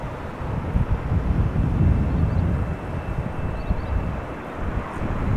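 A Canadian-registered TUI airliner, eight years old, roars at Amsterdam Schiphol Airport, a broad steady rumble heard from a distance with wind buffeting the microphone.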